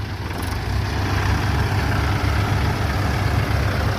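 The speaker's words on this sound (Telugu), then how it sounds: "ఫ్రెండ్స్, ఇప్పుడైతే ఈ ట్రాక్టర్లో వచ్చేసి లోడ్ గేరు 3వ గేర్లో రాబోతున్నాయి" A tractor engine runs under load in third gear, a steady, loud low rumble that holds evenly throughout with no pauses.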